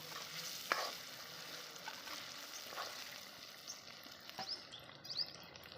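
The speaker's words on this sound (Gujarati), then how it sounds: "હવે સિંગ ખાંડી હતી એ આપણે આમાં નાખી દઈશું. અને ઘડીક સિંગને સડવા દઈશું." Crushed peanuts frying in a pan for a village-style whole potato curry, a faint, soft sizzle with a few light stirring scrapes and clinks, quiet and close, with occasional bird chirps far off.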